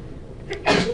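A single sharp sneeze bursts out late in a quiet moment, close and fairly loud, while a prealgebra lesson is being taught.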